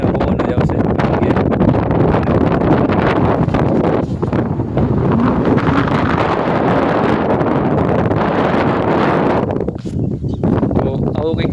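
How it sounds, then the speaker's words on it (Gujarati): Strong wind gusts across open farm fields and batters the microphone in a loud, continuous roar with heavy low rumble, easing slightly for a moment near the end. "અવાજ તો નહીં પવન જ આવશે"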